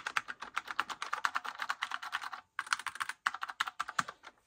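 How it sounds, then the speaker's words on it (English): Rapid clattering keystrokes on an Apple IIGS desktop keyboard, close and steady, with a brief pause midway before the typing resumes. "there's some great sound and feel on this keyboard"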